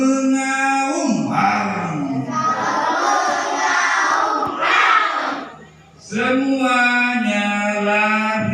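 Several children give loud, drawn-out shouted roars together, imitating a large animal, in two long voiced bursts with a brief dip between them, close and crowd-like.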